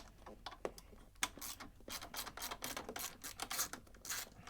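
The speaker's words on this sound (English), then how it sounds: "come in with your 1/4 inch ratchet and 10 millimeter socket here. Start unbolting everything." A 1/4 inch ratchet turning a 10 mm socket as nuts are unbolted on a Harbor Freight Predator 3500 generator during a propane conversion, giving quiet, rapid mechanical clicking in irregular bursts close by with no talk.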